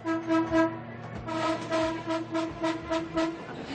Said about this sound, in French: j'entends dans le wagon que vous n'arrêtez pas de klaxonner